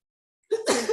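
A single sharp sneeze bursts out close by after a moment of silence, short and forceful.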